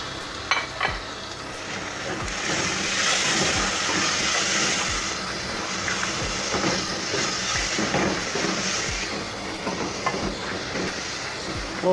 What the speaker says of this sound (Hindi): और थोड़ा सा इसमें पानी डाल देंगे ताकि मसाले हमारे जले ना।